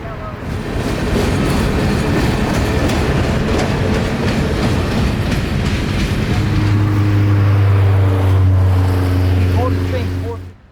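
Freight train 604 rumbles loudly past a rail junction, a close, steady roar of wheels and railcars with rhythmic clatter, joined later by a deep horn-like drone before fading at the end.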